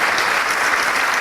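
Audience applause during a lecture on globalization: a dense, steady wash of clapping from many hands, loud and continuous throughout, with no voices standing out.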